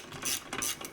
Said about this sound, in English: so I can actually tighten it down with the ratchet